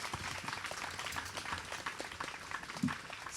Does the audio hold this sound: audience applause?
yes